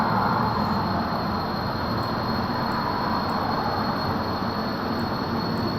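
A scrapped-together airplane flies in a video game, its engine a steady, loud, broadband drone holding level and unbroken throughout, with no voices over it.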